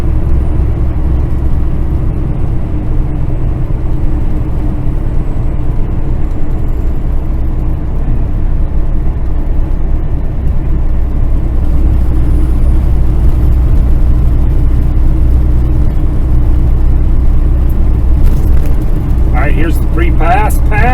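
A car cruises along a Colorado Springs highway toward snow squalls, with a constant loud road rumble and engine drone from inside the cabin and only a few faint clicks near the end.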